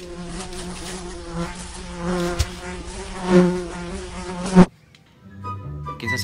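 A housefly buzzes close by in a steady, wavering drone that grows louder at moments, then cuts off abruptly into near silence.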